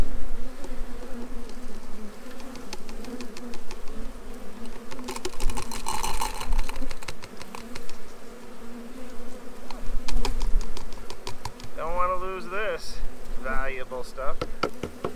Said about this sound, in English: the bees are getting in and out of those little holes there